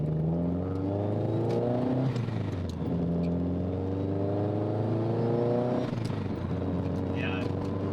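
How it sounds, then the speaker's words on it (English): Subaru GC8 turbocharged car driving around the block after a new Tial blow-off valve spring is fitted, the engine droning and rising through gears up close, with people talking over it inside the cabin. "So we're gonna go ahead and just drive around the block. Just want the turbo to be happy."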